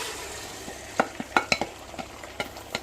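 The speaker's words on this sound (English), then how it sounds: "So I'm going to start frying" Eggs frying in a pan for fried rice, with soft background sizzle and a series of sharp scraping and stirring clacks from a utensil against the pan.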